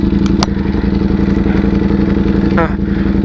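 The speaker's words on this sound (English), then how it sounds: "rev bombing for kids" A motorcycle engine runs loud and close with a rapid, throbbing rumble, with a few sharp clicks over the steady engine note.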